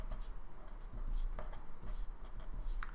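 A pen scratches across paper in short, quiet strokes with small pauses between them, close and soft over faint room hum, written during a trigonometry lesson.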